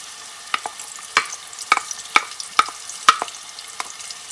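Garlic and ginger paste frying in a pan for a chicken palak dish, with a steady soft sizzle under sharp, irregular spoon scrapes and clicks from stirring, close by and with no talking.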